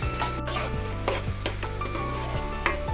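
Green chillies and thinly sliced onions fry in hot oil in a pan with a close, continuous sizzle, punctuated by a few spatula scrapes and clinks.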